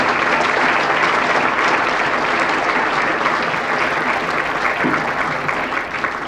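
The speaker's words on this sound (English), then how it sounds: "Let's give them all another round of applause." A banquet audience at an annual chamber of commerce awards banquet gives sustained, dense applause, a loud continuous roar of many hands clapping that stays level throughout.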